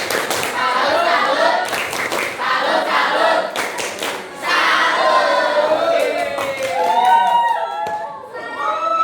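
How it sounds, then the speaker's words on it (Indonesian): A classroom group performs a rhythmic clapping chant in honour of a student group, with bursts of sharp claps between chanted voices and shouted lines. "Kita kasih tepuk salut untuk kelompok Cici."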